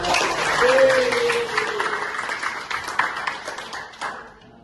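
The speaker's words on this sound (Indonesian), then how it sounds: "Baik, tepuk tangan buat Kalisa." Classroom applause from a class of students, a dense burst of clapping that starts loud and close, then thins into scattered claps before dying away, with a brief voice under it.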